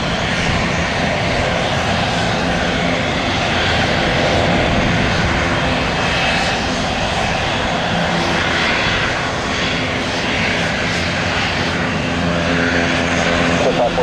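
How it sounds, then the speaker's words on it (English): A jet airliner passes at an airport, a loud sustained engine roar that swells and fades across the whole stretch with broadband rumble and whine. "Another couple of aircraft, another jet."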